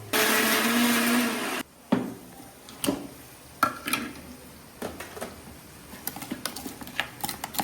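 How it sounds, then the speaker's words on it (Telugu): A mixie blender grinds chilli powder, salt and garlic cloves for a bitter gourd onion chutney, running loud and steady for about a second and a half, then stopping and leaving scattered clinks and taps of the jar. "ఒకసారి మిక్సీ పట్టుకుందాం"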